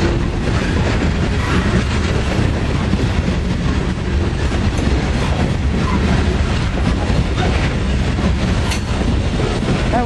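A westbound train rolls past close by, a loud continuous rumble with rattling wagons and clickety-clack from the rails lasting throughout.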